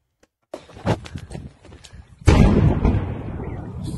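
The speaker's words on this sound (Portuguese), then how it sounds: "isso foi a grande explosão que o pessoal viu aqui." A large explosion at the port of Berdiansk, heard as a sharp blast followed by a dense, rumbling roar that stays loud and sustained, after some earlier scattered bangs and noise.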